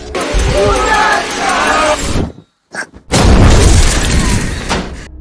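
A microwave explodes with a loud, sudden boom bursting through a dense, noisy scene, followed by a brief silence and then a second roaring blast with rumbling debris.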